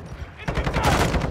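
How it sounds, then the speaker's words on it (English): Sentry gun turrets in Modern Warfare 2 opening fire, a short loud barrage of rapid automatic shots following a brief quieter moment. "hide until your turrets kill everyone on the map"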